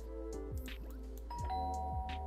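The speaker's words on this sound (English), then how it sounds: "somebody just rang the doorbell" A two-note ding-dong doorbell chime from The Sims 4 rings clearly over soft in-game background music and household ambience, with no one talking.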